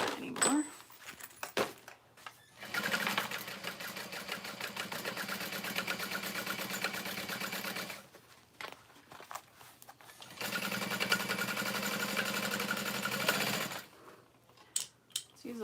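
A sewing machine stitches fabric binding in two long steady runs of rapid mechanical whirring, each several seconds long, separated by pauses with faint handling sounds and a voice talking.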